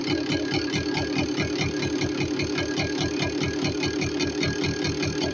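A Yamaha RS100 motorcycle engine idles close by during carburettor tuning with a fast, even knocking putter that stays steady throughout, no voices over it.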